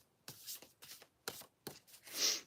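Playing cards shuffled by hand in a few quick separate bursts, each a crisp papery riffle, ending in a longer, louder riffle. Close and fairly quiet, with no talking.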